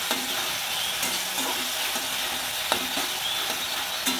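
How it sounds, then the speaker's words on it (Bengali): Dumbur stirred as it fries in hot oil in a pan, a steady close sizzle broken by several scraping strokes of the spoon, with no voices. "এইভাবে আমি নেড়ে চেড়ে নেবো"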